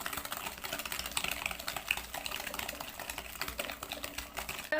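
Eggs and sugar are beaten together for chocolate cupcakes or madeleines, giving a steady, busy whirring and rattling texture that runs throughout at moderate level without speech.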